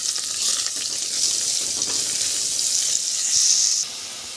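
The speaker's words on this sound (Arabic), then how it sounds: "حطيت فيها سنه كده من الزيت البسيطه، وهنزل عليها بالبصله بتاعتي اشوحها بس تشويحه واحده" Onions sautéing in a little oil in a pot, giving a steady, close hiss and sizzle that holds throughout, with faint stirring texture and no talk.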